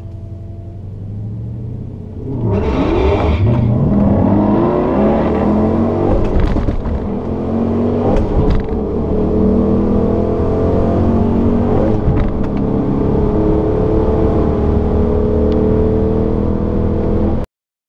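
A Dodge Challenger R/T with long-tube headers launches at a drag race against a Demon: a low idle rumble jumps to a loud, sustained, rising engine roar with gear shifts, close and dominant until the end.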